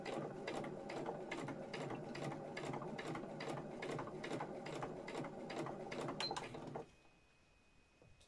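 A home sewing machine stitches fabric in a steady rapid run of needle strokes for about seven seconds, then stops, leaving a quiet room with a faint tone.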